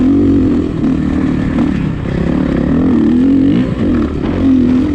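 Suzuki RMZ450 dirt bike racing on a sand track, its four-stroke engine droning loud and close with steady throttle rises and dips, rider's own machine dominating throughout.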